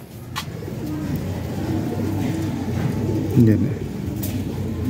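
Red-eyed pigeons coo in a low, repeated rolling murmur, fairly close and steady throughout, with a brief spoken word from a man over them.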